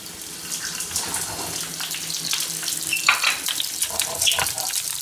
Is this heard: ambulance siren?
no